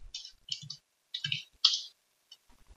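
Computer keyboard typing in short bursts of clicking keystrokes, close and fairly quiet, separated by brief pauses, with no talking.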